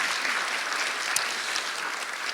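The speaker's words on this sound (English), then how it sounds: "can you give each of them a round of applause" Audience applause for panel guests at a horror round-table event, a continuous wash of many hands clapping at moderate volume that holds steady throughout.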